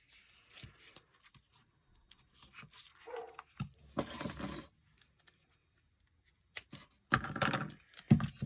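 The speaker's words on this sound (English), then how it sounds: "that's my dog in the background" A dog barks in short bursts in the background, mixed with tapping and light handling noises nearby, with quiet gaps between.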